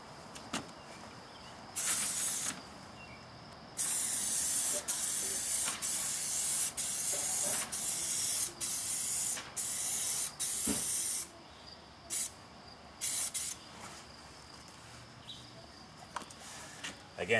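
A spray gun lays automotive clear coat over a scratch repair in a run of hissing bursts, each a second or two long, with short quiet gaps and faint clicks between passes.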